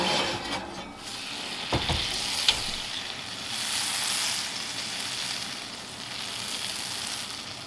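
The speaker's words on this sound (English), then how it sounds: "I'm adding a pat of butter to the preheated iron skillet in the oven." Butter melting in a preheated iron skillet inside an oven gives a steady soft sizzle and crackle, with a few brief clinks near the start.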